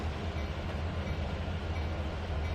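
Train cars rolling slowly along track in the Trainz 2019 railway simulator, a steady low rumble with faint wheel noise, continuous and unbroken with no talking.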